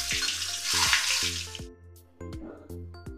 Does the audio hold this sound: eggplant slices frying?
yes